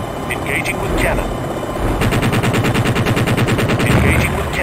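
In the Jane's Longbow video game, a helicopter's cannon fires a single burst of quick, regular rounds for about two seconds. The burst is loud and near over a droning engine, with faint electronic beeps before and after.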